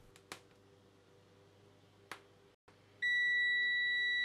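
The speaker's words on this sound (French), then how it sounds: "Ça bip quand j'appuie sur le bouton 2." Two faint clicks, then a loud steady electronic beep from a continuity tester checking a 16-button keypad starts and holds continuously, close and piercing against a quiet background.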